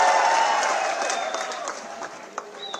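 Loud applause from a crowd at a Congress party gathering in India, a dense wash of clapping that swells at first and slowly thins over a few seconds, with scattered louder claps near the end.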